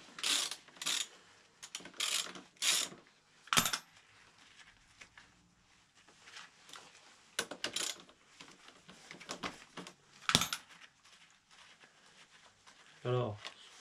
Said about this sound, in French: Alors, on enlève l'écrou.